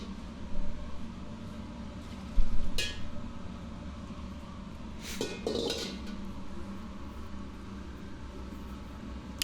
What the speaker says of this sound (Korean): 충분히 잘 돌려서 웍에 이제 고루 기름이 닿을 수 있도록 해줘야 하고요